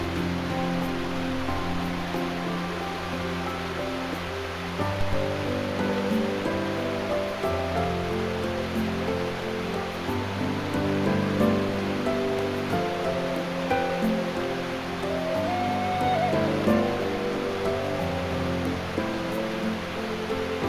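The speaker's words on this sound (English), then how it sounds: "We'll cross right below the falls. We have to cross the creek in order to get to the hot springs." A Wyoming creek flowing just below a waterfall, heard as a constant, close, full rushing roar of water that stays steady throughout with no voices.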